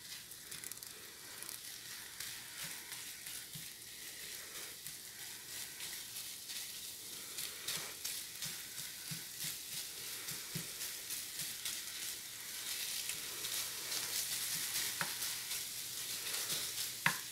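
Onions and apples frying in leftover sausage grease in a pan on a stove, a steady bright sizzle with light stirring scrapes and small pops, close and continuous, growing slightly louder toward the end.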